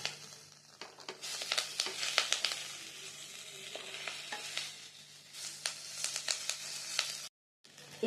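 Egg chicken fried onion pepper roast being stirred in a pan, with a steady sizzle and scraping stir strokes, close and continuous throughout with a brief cut near the end.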